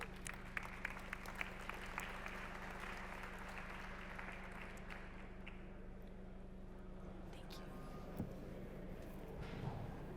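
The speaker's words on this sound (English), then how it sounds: "Can I get a round of applause, please?" An audience at a conference session on end-user productivity applauds the speakers coming on stage, a low, steady patter of clapping over a constant hum, fading out toward the end.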